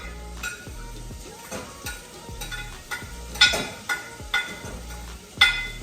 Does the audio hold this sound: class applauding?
no